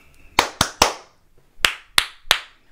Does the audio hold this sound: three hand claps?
yes